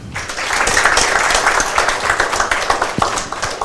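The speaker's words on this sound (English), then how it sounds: "So welcome him with a clap." An audience at a civil services topper's talk claps to welcome a guest, a steady burst of applause that swells quickly and holds, thinning toward the end with a few individual claps.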